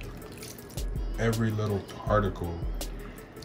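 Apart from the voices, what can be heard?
water splashing while hand-washing sea moss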